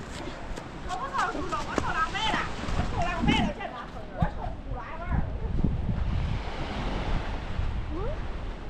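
Waves break and wash up on the wide Cat Co 3 Beach on Cat Ba Island, a continuous surf roar with gusts of wind noise on the microphone, while people talk nearby.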